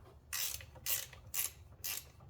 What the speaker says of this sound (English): Remove this 10mm bolt right here so that we can move the bracket out of the way.